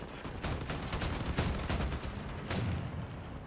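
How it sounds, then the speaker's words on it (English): Cannon fire in the vehicle combat game Crossout, heard as a dense stream of booming shots and impacts, loud and sustained throughout with no talking. "he is using cannons."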